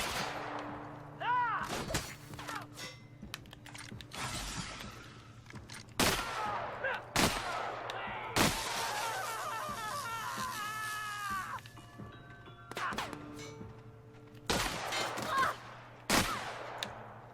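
Gunfire from the video game The Outer Worlds, with sharp broadband shots recurring irregularly over about seventeen seconds amid game ambience, alien creature calls and occasional talk.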